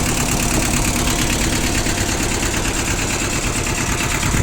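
A small two-cylinder Yanmar mini tractor engine idles steadily up close, a loud, even rattling chug with no voices.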